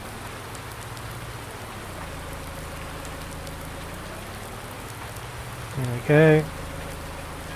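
Steady rain patters across a Farming Simulator 19 farmyard in the Alpine Erlengrat map, a constant broadband hiss under a brief spoken phrase and a short burst of machinery or door noise near the end.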